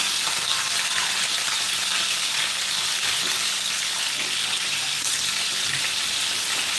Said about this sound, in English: stir frying them with garlic and ginger